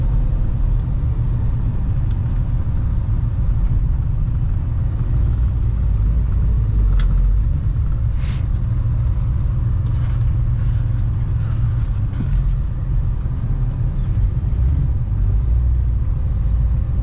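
A 1955 Chevrolet 210 drives slowly through a U-turn in a lot, its engine a steady, deep rumble heard from inside the car, loud and constant, with faint clicks and rattles over it.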